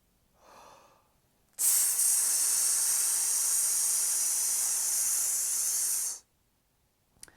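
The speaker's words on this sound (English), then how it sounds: "While you practice your sizzle, I want you to feel your stomach muscles pushing the air" A long, steady sibilant hiss of breath pushed out through the teeth as a wind-instrument sizzle exercise, lasting several seconds at even strength, preceded by a soft inhale.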